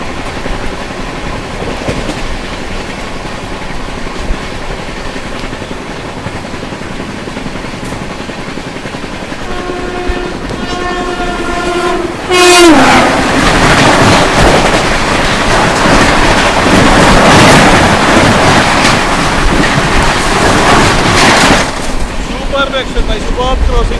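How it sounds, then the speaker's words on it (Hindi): Jhelum Express 11078 meets the Trivandrum Rajdhani Express 12431 at speed on a crossing. A horn sounds briefly, then the oncoming train's loud, roaring rush of wheels and carriages passes close by without a break. "सामने से आ रही थी झेलम एक्सप्रेस"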